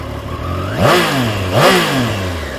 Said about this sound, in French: On sent le 3 cylindres Triumph